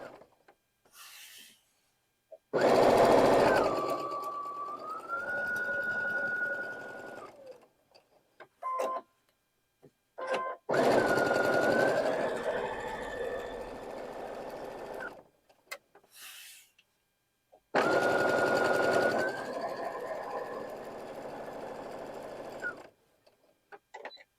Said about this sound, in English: now we've just sewn all the way around this block and down the corners on either side of the lines that we drew.